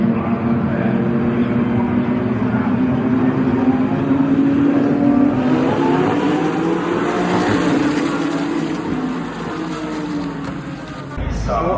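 Race cars roar together at the start of a circuit race, a loud, sustained engine drone with rising pitch sweeps throughout, a voice speaking beneath the din.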